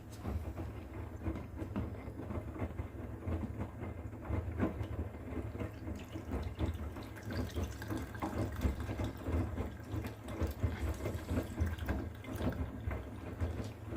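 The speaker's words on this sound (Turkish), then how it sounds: "Ama su dökebilirim içerisine." Water poured into a container to make five litres of detergent solution, a steady continuous splashing rush at low level, with a constant deep hum beneath it and no talk.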